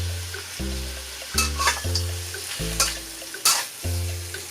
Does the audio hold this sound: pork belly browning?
yes